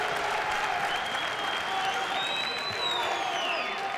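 A crowd applauds steadily through a college wrestling match between Minnesota and Rutgers at 149 pounds, a dense, even wash of clapping and arena murmur from a distance with faint voices underneath.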